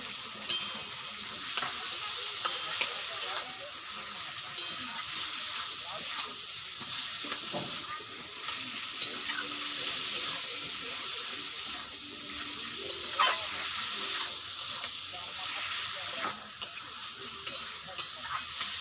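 Fried chhana pieces are stirred into a simmering curry in a pan, giving a steady close sizzle with scraping and stirring clatter and occasional sharper knocks of the spoon, with no voices.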